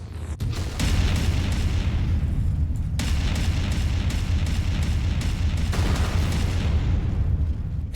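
A Vindicator mech blowing up as it is destroyed in a MechWarrior game, rendered as a loud, dense, rumbling roar of blasts that fills the whole stretch, with a few sharp breaks where new bursts hit.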